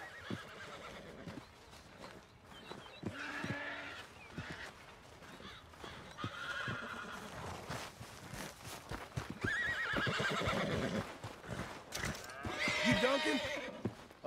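Horse neighing and whinnying with clip-clop hoofbeats in Red Dead Redemption 2, repeated whinnies over a steady background, with people talking at intervals.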